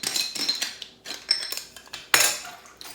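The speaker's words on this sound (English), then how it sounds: "throw in all your dates." Dates tumble into a blender jar in a quick series of close, sharp knocks and clatters, several separate hits spread over a few seconds with no talking.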